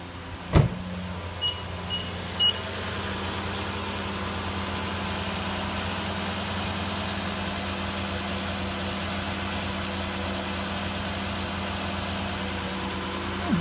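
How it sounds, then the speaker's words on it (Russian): A Nissan Murano Z51 engine idling after throttle body cleaning, a steady, soft low hum heard close for the whole stretch, with a few brief clicks and a sharp knock near the start. "Двигатель работает мягенько."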